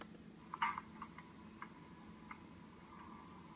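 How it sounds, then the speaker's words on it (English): A steady high-pitched hiss from a high voltage source hangs in the background alongside faint intermittent ticks and a beetle wing case bouncing off a sheet of metal, moderately quiet throughout with no talking. "there's also a high-pitched hissing in the background"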